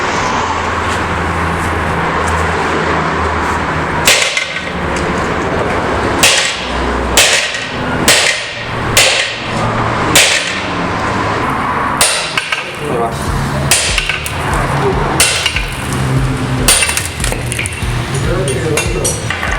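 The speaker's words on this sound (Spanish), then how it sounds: "hay que darle unos pequeños golpes a la muelle para que afloje un poquito más el buje" Sharp metal hammer blows strike a Voyager leaf spring to loosen its oval bushing, landing as about a dozen loud, irregular clanks over steady background noise and traffic hum.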